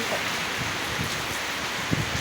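Wind and steady rain during the year's first rain form a dense, even hiss, with a few louder drops or gusts breaking through and no voices present.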